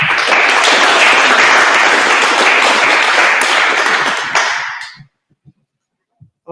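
Audience applause for candidates at a Tararua District Council community board election event in Eketahuna, loud dense clapping that holds steady then fades out abruptly, leaving a few scattered final claps.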